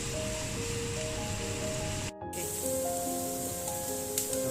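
Garlic fries in hot oil for a curry stingray dish, giving a steady, dense sizzling hiss that runs throughout with a brief cut near the middle, backed by soft sustained musical tones and no talking.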